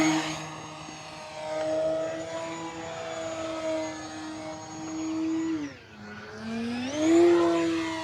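An E-flite Beechcraft D18 1.5 m RC model twin-engine plane flies past, its motor whine holding steady, then dipping sharply and rising again as it turns, moderately near with no talk.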